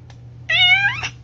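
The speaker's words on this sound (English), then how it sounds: "I feel like animals in general, but cats especially, are so vocal." A pet cat gives one loud, drawn-out meow close by, rising then falling in pitch over a low steady hum, with no talking.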